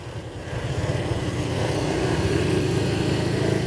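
A motorcycle engine drones steadily while riding on the way to the Ci Tiis waterfall, rising in loudness over the first second and then holding an even, buzzing rumble.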